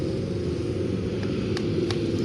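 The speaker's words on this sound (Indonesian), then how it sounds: "Ada bus apa ini? Ada bus Damri ya?" A Damri bus passes on a road, heard as a steady, fairly loud broadband rumble of traffic with no clear rise or fall, under faint background noise and without speech.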